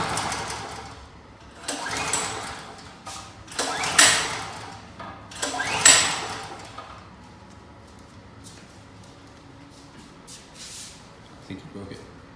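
Volkswagen GTI engine cranking on its first start attempt: three short, rising whirring bursts of the starter a couple of seconds apart, followed by quieter mechanical ticking, with people talking nearby.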